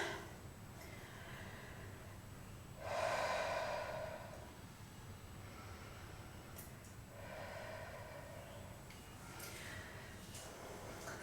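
Steady yoga breathing while holding a pose in a slow-flow vinyasa class, with one long, close exhale followed by a softer second breath several seconds later, quiet and unaccompanied by speech.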